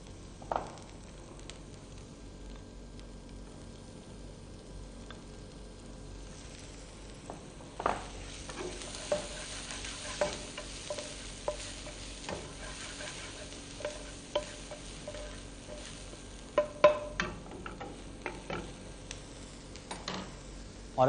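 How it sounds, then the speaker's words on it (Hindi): Garlic and onion frying gently in oil or butter in a pan give a faint, low sizzle, joined in the second half by scattered light clicks and taps of a spoon against the pan. "और अब इसके अंदर हम गार्लिक और प्याज को थोड़ा सा भूनेंगे"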